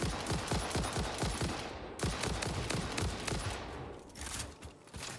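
Rifle fire in Satisfactory, rapid repeated close shots in a steady rhythmic stream that pauses briefly and resumes, then tapers off, with no talking.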